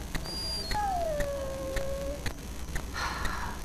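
A dog in Dragon Age Origins lets out a long, drawn-out whine that slides downward, then a shorter whimper, close and clear over faint background ambience.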